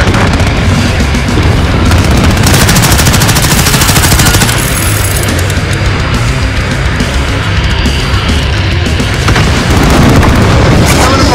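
Sustained heavy gunfire in Call of Duty Modern Warfare, loud and dense machine-gun bursts with booming impacts and explosions rolling continuously throughout, filling the whole stretch without pause or audible speech.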